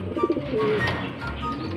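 Birds coo and chirp close by, with soft pigeon-like calls over a background of rustling and outdoor noise.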